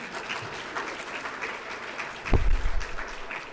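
A writers conference keynote audience claps and cheers, the applause fairly distant and moderate, with a low thump near the end.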